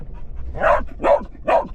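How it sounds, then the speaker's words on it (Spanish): A dog barks three times in a steady rhythm, fairly close and clear over a low rumble of a vehicle on a rough dirt track in Baja California Sur, Mexico. "Este señorito tiene el hábito de ladrar cuando hay árboles cerca de la brecha."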